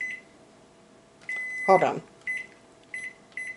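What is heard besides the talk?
microwave oven running, steaming vegetables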